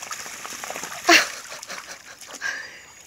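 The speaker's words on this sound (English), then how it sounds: "Papa, this is the first time I've seen you get in the water." A dog splashes into water in a short burst around the one-second mark, followed by quieter sloshing and trickling sounds, with faint outdoor background noise.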